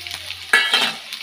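A sudden loud sizzle erupts as onions drop into hot oil with cumin, crackling brightly before settling into a steady fry, close by and without speech.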